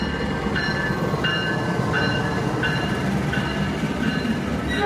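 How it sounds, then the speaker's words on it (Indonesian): Jayabaya passenger train rolling past at an Indonesian station, a loud steady rumble of wheels on rail with rhythmic clacks roughly every half second, close by and continuous with no talk. "Jayabaya, kereta Jayabaya teman-teman."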